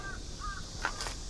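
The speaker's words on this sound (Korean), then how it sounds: "까마귀도 울고 까치도 울고" Crows caw from a hillside near a coastal workplace, a few short harsh calls at moderate distance over a low rumbling background, with no talk.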